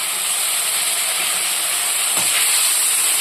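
Ginger and green chilli paste with a little water sizzles in a hot pan for Bengali aloo dum, a loud continuous hiss of steam that stays even and close throughout.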